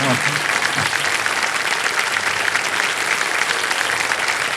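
Studio audience applause on a television quiz show set, a dense, steady wash of many hands clapping that stays loud and even from start to finish.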